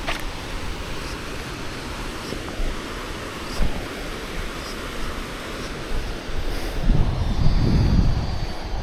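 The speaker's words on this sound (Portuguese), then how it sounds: "Vamos ali pra essa parte da cachoeira." Waterfall at Garganta do Diabo in Lages, Serra Catarinense: a steady broadband roar of falling water close by, with wind buffeting and a louder surge near the end.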